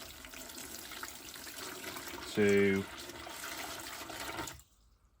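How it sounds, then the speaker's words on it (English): Water runs from a tap into a tank for a soda crystal stripping mix: a continuous, moderately loud hiss and rush lasting several seconds before stopping abruptly, with a brief clunk partway through. "So there'll be 10 litres of water going in here"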